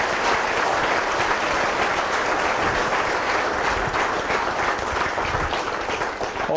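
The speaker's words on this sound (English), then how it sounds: "I think it really deserves a big applause to all those people." A large audience gives sustained, dense applause, many hands clapping together at a steady loud level for several seconds without letting up.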